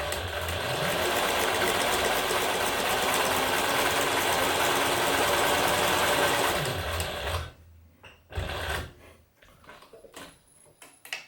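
Singer 107W1 sewing machine driven by a servo motor stitching through four layers of sail cloth: a steady, loud mechanical whir running for several seconds, then stopping, followed by a few clunks and handling noises.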